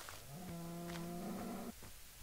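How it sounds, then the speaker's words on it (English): A cow in the video game Minecraft lets out one long, steady moo lasting over a second, loud and clear with no talk over it. "Shut up, cows."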